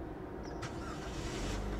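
A Daihatsu Sigra with a manual gearbox is started without the clutch pressed, a short burst with a click and then a steady low engine hum close by, no voices.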